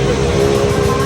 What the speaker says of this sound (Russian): Машина едет